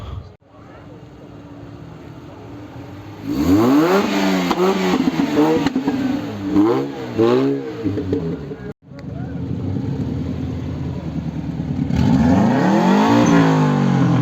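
A Toyota Celica T18 engine revs at a Japanese car meeting on a race circuit, rising and falling in repeated swells over steady crowd and traffic rumble, fairly close, with people talking in the background.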